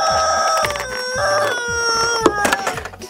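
A screaming chicken toy squeezed during a children's toy game lets out a rapid series of loud, shrill squawking clucks, one after another, close up and with no talk.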